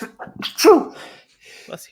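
A single sharp sneeze bursts out close by during a tabletop game session, surrounded by brief bits of speech before and after.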